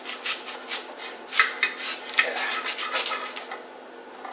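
A knife slices down through the middle of a big peeled onion, giving a series of crisp, scraping crunches with short pauses between strokes, close and fairly clear.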